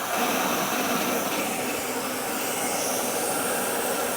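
Compressed air regulated to 50 PSI blasts steadily through a personal watercraft's cooling system during winterizing, a loud, unbroken roaring hiss with no pauses or talk.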